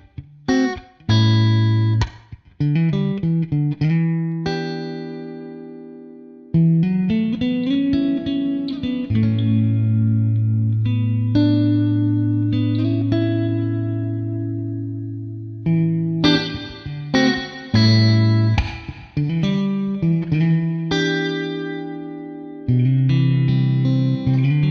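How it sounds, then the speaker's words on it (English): Electric guitar run through the IK Multimedia AmpliTube X-Space reverb unit, plucked notes and sustained chords ringing out with lush reverb tails, played alone and loud with pauses between phrases. "X Space has 16 different types of reverb, including the more standard ones like these."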